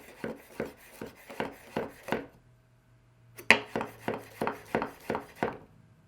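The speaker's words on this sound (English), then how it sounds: "We're going to chop this really fine." A knife chops a garlic clove finely on a cutting board in quick, evenly spaced close taps, a run of about eight strikes, a short pause, then another rapid burst of about eight.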